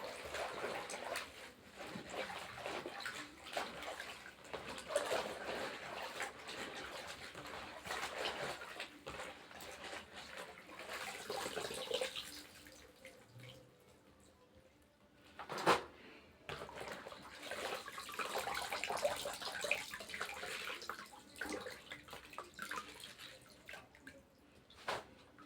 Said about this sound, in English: Time for me to rinse my vegetable.